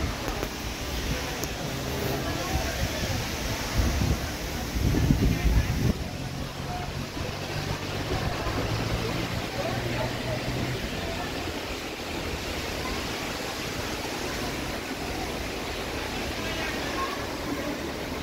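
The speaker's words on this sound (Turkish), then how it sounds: "Bugün bayağı bir rüzgarlı, fırtınalı bir gün." Strong gusting wind on a stormy day at an outdoor market, a broad continuous rushing roar buffeting the microphone with a louder surge midway, and speech mixed in.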